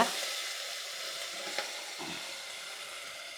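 A soft, steady sizzle of mustard seeds crackling in hot oil, fairly quiet and continuous, with a faint clink partway through.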